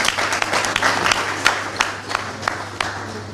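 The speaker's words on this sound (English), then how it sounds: "I think he deserves a big round of applause." A crowd at a ceremony commissioning a remodeled National Defence College officers' mess applauds the governor, with scattered, fairly sparse clapping and distinct individual claps standing out over a light crowd murmur.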